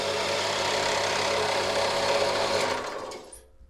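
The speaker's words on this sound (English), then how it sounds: "I can set that angle in the bandsaw and get that cut to the correct" Bandsaw cutting a steel seat rail at an angle for an FIA weld-in seat mount in a Volvo S40 race car build, a steady loud buzzing whir that fades and stops near the end.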